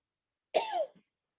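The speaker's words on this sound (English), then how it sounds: "We're going to have 5 coughs after this." One short, sharp cough during a yoga kriya cleansing exercise, close and clear in an otherwise silent room.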